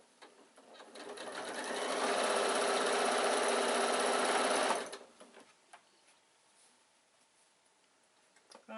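A sewing machine stitches down a seam on a baby bag, its fast steady whirring rising in speed and running loud and close for several seconds before stopping abruptly into quiet room sound.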